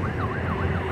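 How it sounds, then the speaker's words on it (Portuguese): A Federal Highway Police car siren wails in a steady rising and falling sweep, loud and close, over a low rumble of traffic on the Fernão Dias highway in Atibaia. "Viatura da PRF entrando ali no bairro Alvinópolis 2."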